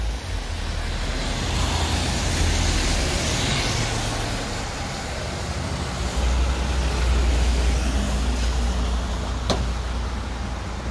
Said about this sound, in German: So, noch ein paar Außenaufnahmen, wie der Said hier mit der C22 weiterfährt.